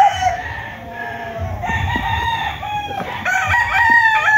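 Young white stag roosters crowing loudly and close, with several overlapping cock-a-doodle-doo calls and some clucking from the flock.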